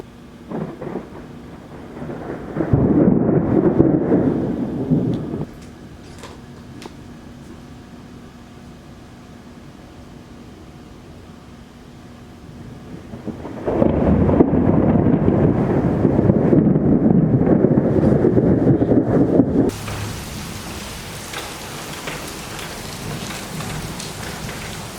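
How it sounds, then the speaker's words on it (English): A thunderstorm in New Jersey brings loud, heavy rumbling thunder in two long rolling waves over steady rain, with the downpour continuing between and after the rolls. "We're still just getting started with this storm."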